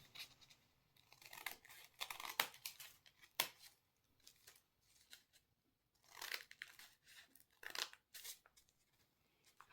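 Scissors snip through paper for Christmas decorations in quiet bursts, a few crisp cuts clustered together, then a pause, then another run of snips, close and soft.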